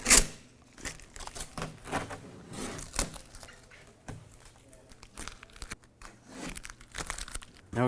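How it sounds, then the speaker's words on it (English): Masking tape is peeled off the rear window of a 2007-2013 Chevrolet Silverado, giving close, loud crinkling and tearing rips in irregular bursts with short pauses between pulls. "Now you can remove the tape from the window."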